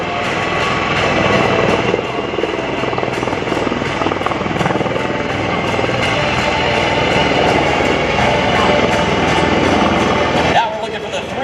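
MV-22 Osprey tiltrotor flying a demonstration at the 2014 Rhode Island Air National Guard open house airshow, a loud continuous rotor drone with steady throbbing that holds for several seconds, then drops off abruptly near the end.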